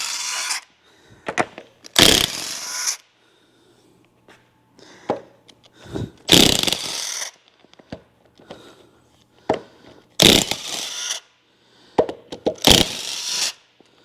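An impact wrench removing 13 mm bolts from a misfiring 1997 Ford Ranger 3.0 V6 engine, four loud rattling bursts separated by pauses filled with faint clinks and handling noise.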